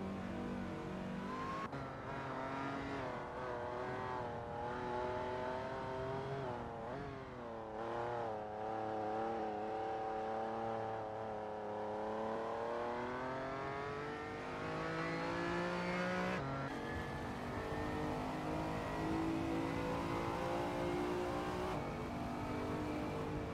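Supercars racing at Brands Hatch in an AI-driven simulation, a steady high-pitched engine whine that rises and falls through gear changes, several cars droning together without pause and without voices.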